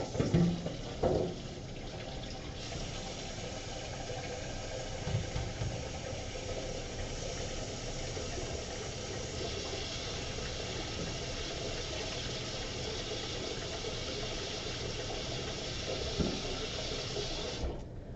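Tap water runs into a kitchen sink to soak a bowl that held spätzle batter, a steady broadband rush holding level for the whole stretch with a few brief clunks near the start.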